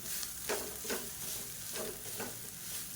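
Basmati rice being stirred with curry leaf powder in a cooking pot, a few scraping strokes of a spoon against the pot sounding up close over a low steady background.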